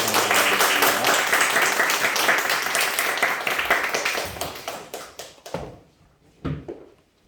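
Church congregation applauding during a Sunday morning worship service, a dense sustained burst of many hands clapping that thins out and fades to a few scattered claps near the end.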